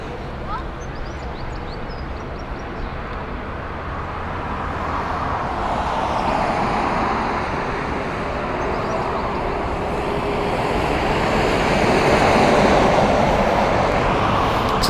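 Virgin Boeing 787-9 passenger jet passing at Heathrow, a broad roar that swells gradually and peaks near the end, with voices talking over it.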